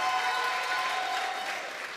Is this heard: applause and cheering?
yes